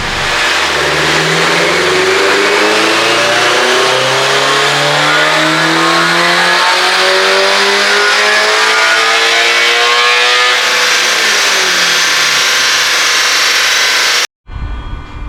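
A second-generation Subaru BRZ with the FA24 engine and JDL headers revs hard through repeated acceleration pulls, its pitch climbing steadily for about ten seconds before the throttle lifts and the revs fall away. The engine is loud and close, with no talk.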